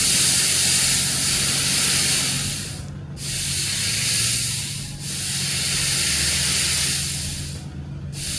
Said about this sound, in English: We're gonna test out the nitrous.